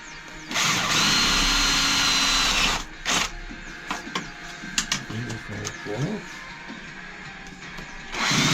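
A power drill whirs in a short loud burst for about two seconds during iron pipework installation, followed by clanks, taps and handling noises at close range.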